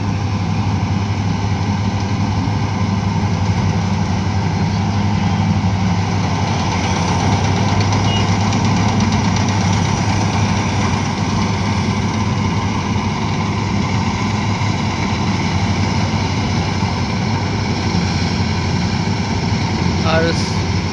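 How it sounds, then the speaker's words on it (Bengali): A Mahindra combine harvester threshes paddy while creeping slowly across a field. Its engine drones steadily and loudly, with a low, constant rumble and mechanical churning, and a voice speaks over it. "প্রচুর ধান চটকাচ্ছে প্লাস আর গাড়িটা প্রচুর আস্তে হাঁটাচ্ছে"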